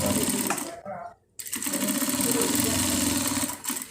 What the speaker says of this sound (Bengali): তারপরে বাঁ ফিটে সিলাইটা শুরু করতে হবে মানে ওই সময় তো উল্টা সাইডে সিলাইটা শুরু করছে